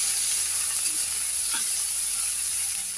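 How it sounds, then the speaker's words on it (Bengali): Dried fish crackles and sizzles in hot mustard oil in a wok, an even, close frying hiss with a faint scrape near the middle. "দিয়ে একটু ভালো করে ভেজে নেব"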